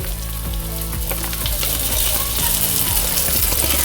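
Asparagus frying in melted butter in a pan, with nutmeg and hot paprika going in for a cheese sauce: a steady, loud sizzle and crackle runs throughout, broken by a few soft stirring knocks.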